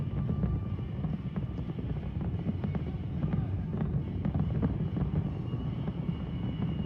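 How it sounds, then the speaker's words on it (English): Fireworks on the National Mall played back from a recording, a dense rumbling barrage of booms and crackles heard steadily and somewhat muffled. "Yeah, we did fireworks here on Saturday night."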